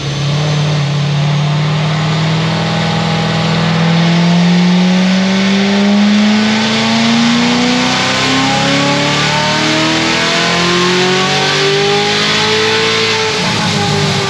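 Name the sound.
1250 hp C7 Corvette Z06 engine revving on a dyno pull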